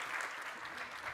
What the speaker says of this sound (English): So I welcome Enrico and Antonella with a round of applause.